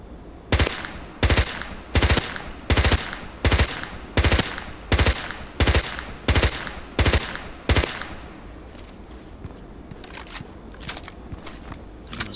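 An MP5K submachine gun with a simple barrel firing in burst mode, about ten loud evenly spaced bursts in a steady rhythm, then quieter rattling and handling noise afterward.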